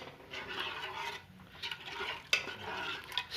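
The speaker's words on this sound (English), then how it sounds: "Stir it until it mixes the onion, tomato, chili, which was already cooked in this pot." A spoon stirs dry silver fish curry with cooked onion, tomato and chili in a pot, giving soft scraping and rubbing strokes with a couple of sharp metallic clinks, fairly quiet and close.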